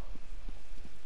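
A short run of hollow, evenly spaced horse hoof clops from The Elder Scrolls Online, a few steps at a steady walking rhythm.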